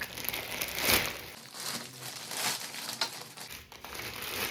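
Parcel packaging crinkling and rustling up close as a delivered kurti order is unwrapped, a steady stream of plastic crackles and crumples with no talking.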